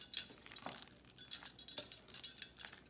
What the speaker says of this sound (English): I'm gonna use this same spoon to fold in the eggs